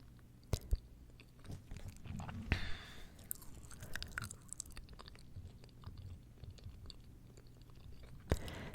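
Gum being chewed close to the microphone in an ASMR setting, a steady run of soft wet smacks and crunchy clicks with a few sharper snaps, no voice present.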